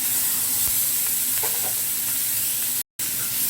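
Capsicum, tomato and onion sizzle over a high flame in a kadai for kadai paneer, a constant hissing fry with faint stirring scrapes and a brief cut near the end.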